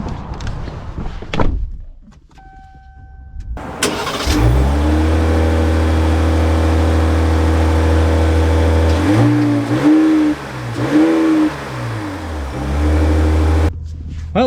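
A 2025 Ram 1500 Rebel pickup truck, under $70,000 with a 33-gallon tank, has a door thud and then its engine starts and settles into a loud, steady idle hum. The engine revs in a few swells before settling again.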